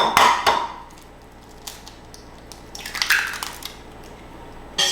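An egg being whisked in a bowl for breakfast: a few sharp clinks and scraping taps at close range, with quieter stretches between short bursts.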